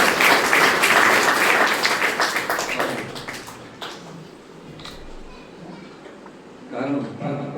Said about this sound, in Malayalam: എല്ലാവരും നല്ല കയ്യടി കൊടുക്കാൻ.